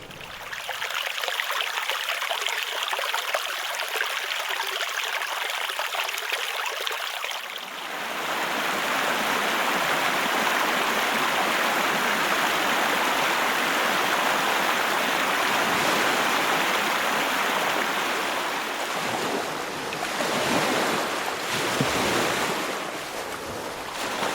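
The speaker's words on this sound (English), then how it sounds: "Water sounds." Steady roar of surf and moving water, fairly loud and continuous, with a brief quieter hiss at the start before waves build and surge.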